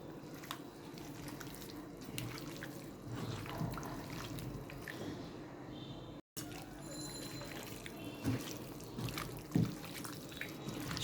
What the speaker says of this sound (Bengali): এখন আমি ভালো মতো মাখিয়ে নেব।